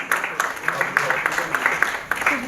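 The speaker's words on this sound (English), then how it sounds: "A huge, huge round of applause" Scattered hand claps from an audience at a diplomacy round-table event, a thin, uneven patter of individual claps under a voice speaking over them.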